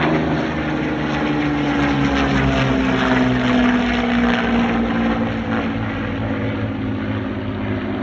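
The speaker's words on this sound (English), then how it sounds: "The quartet includes two P-40Ns, one P-40E and one P-40F. The latter is a rare example of a Merlin-powered Warhawk." P-40 Warhawk warbirds, Merlin- and Allison-powered piston fighters, fly over an airshow, a loud continuous propeller-engine drone with a slowly shifting tone that sustains for the whole stretch.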